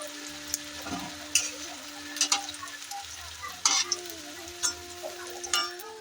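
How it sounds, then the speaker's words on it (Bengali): Food shaped by hand frying in hot oil in a pan until reddish-brown, with a steady sizzle and occasional louder crackles and spatters, close up, with no talking. "এক এক করে ভেজে নিচ্ছি। লাল লাল করে ভেজে তুলে দেবো।"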